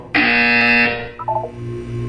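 A loud, harsh electronic buzzer from the video game Portal 2 blares steadily for under a second, then cuts off, followed by a few softer electronic tones.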